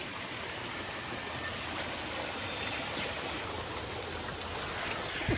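Steady rush of falling water from a small waterfall at Dorrigo, Australia, a continuous broadband splashing with no voices, constant and fairly close throughout.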